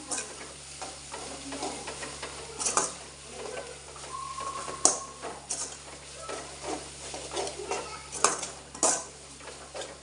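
Sliced garlic and okra sauté in a pan for a tangy tamarind okra dish, with a soft sizzle under frequent spatula scrapes and clinks against the metal.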